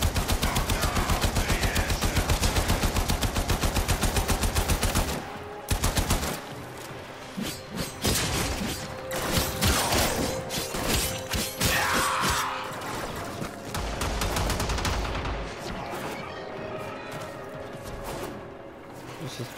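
Rapid gunfire in the video game Warframe, a dense loud burst of shots followed by scattered blasts, impacts and crashes amid game effects, with a player speaking at times.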